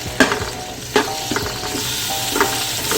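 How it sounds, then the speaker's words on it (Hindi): Onions frying in oil in a deep pot (degchi) for mutton pulao, a steady close hiss with a few sharp pops and scrapes of the spoon, no talking. "इसमें अभी मैं प्याज डालूँगा, और प्याज में जो है वो हल्के ब्राउन करूँगा।"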